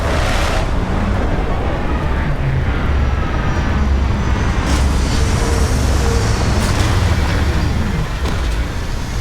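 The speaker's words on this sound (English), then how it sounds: "Landing struts primed, retros firing." A spaceship lands in the game Starfield with its retro thrusters firing, a loud continuous roaring rumble with turbulent jet noise and a few sharper bursts, steady throughout, with no speech.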